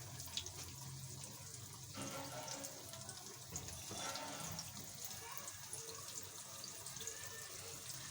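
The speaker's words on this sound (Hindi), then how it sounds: "ऑयल को मैंने गर्म कर लिया, तो अब हम ये चिकन के पीसेस इसमें ऐड कर" Chicken pieces dropped into hot oil in a home kitchen, a steady hissing sizzle throughout with a sharper burst of crackle as fresh pieces go in, faint talk underneath.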